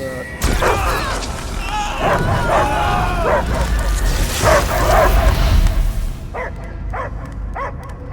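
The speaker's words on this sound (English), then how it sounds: "I hear only barking." A dog barks in the Guardians of the Galaxy video game, first buried under voices and rumbling game sound, then a few sharp, evenly spaced barks ring out clearly at the end.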